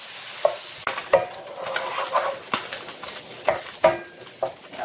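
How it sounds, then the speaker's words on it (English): Bacon sizzles in a pan for a cream pasta, a steady frying hiss broken by scattered pops and the scrape of stirring, close and moderately loud. "You start off with your bacon, and after it cooks a little bit, we'll add mushrooms."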